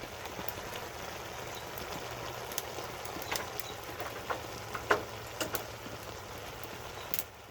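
Vegetables for ribeye chili sizzle faintly in a Dutch oven on a grill, a soft steady hiss broken by scattered small pops and crackles.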